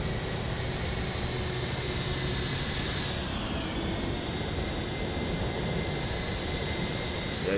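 Jet-like whine of the APU on a PMDG 737-800 in a flight simulator, a steady broadband roar with a faint high tone, constant and unbroken throughout.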